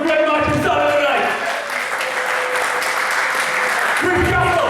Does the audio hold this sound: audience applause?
yes